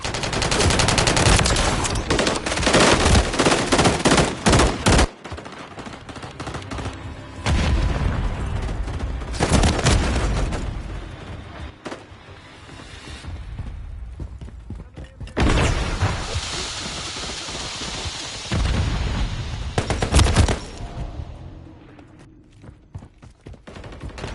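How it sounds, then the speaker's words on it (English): A remote turret fires in a shooter video game, loud sustained bursts of rapid automatic fire broken by short pauses, with booming impacts and a voice briefly calling out in between. "Hostiles deploying the remote turret."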